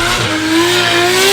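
A drift car on 235-wide radial tyres revs at MSC Challenge qualifying at Meremere Drift Park, its engine note climbing steadily, loud and close, with a hint of tyre squeal and no voices.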